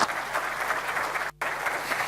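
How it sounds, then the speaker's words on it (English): A conference audience applauds a keynote speaker at a user group event, steady dense clapping filling the room with one brief dropout partway through. "Please give him a round of applause."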